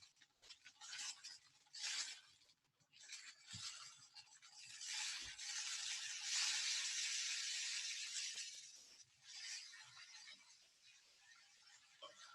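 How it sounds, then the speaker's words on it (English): Rice grains trickle and rustle down through a homemade rain stick, a soft continuous hiss that swells and fades in waves with faint clicks, close and alone without talk. "I can hear it moving slowly down."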